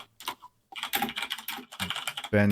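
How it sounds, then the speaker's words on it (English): Rapid clattering of keys on a computer keyboard, close and fairly loud, in quick uneven bursts with a brief pause near the start. "keyboard being really loud."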